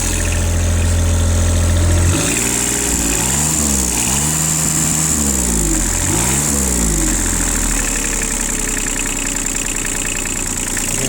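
A Kubota KH021 mini excavator's diesel engine idles steadily and evenly, heard loud and close, with a brief shift in engine tone partway through and no talk.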